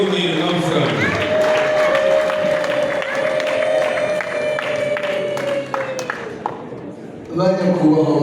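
Wedding guests at Irene and Aliane's wedding clap together, a dense crowd applause with a sustained voice or tone running through it, easing midway and then swelling loudly again near the end.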